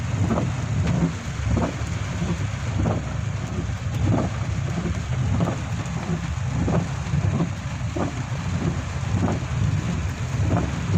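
Heavy, steady rain pours down during a 2020 flood, a dense continuous roar with faint rhythmic pattering bursts repeating through it, close and loud with no voices.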